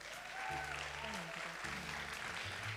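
An audience applauds at a closing ceremony, producing a short burst of steady clapping from a crowd, with a voice and background music layered over it.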